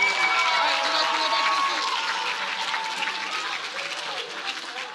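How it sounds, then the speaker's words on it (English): An audience at a swim season awards night gives a big round of applause, dense steady clapping that gradually softens, with voices mixed in. "let's give one more big round of applause to our 8 and unders"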